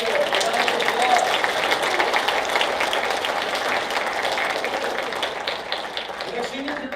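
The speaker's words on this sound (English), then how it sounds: "Let's give Mike a round of applause" Sustained applause fills a room at a football booster banquet honoring a senior player, a dense steady clapping from a seated audience that fades slightly toward the end.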